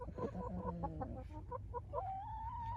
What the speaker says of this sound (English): the chickens are up early because there was a fight in the chicken coop today